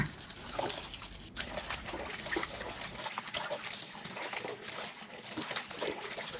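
Pickled bamboo shoots are rinsed by hand in water, giving a continuous, close splashing and trickling with soft sloshes and no voices.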